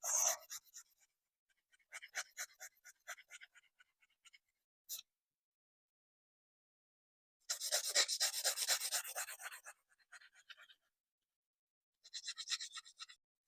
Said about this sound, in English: So I need to keep filing until it's all matte.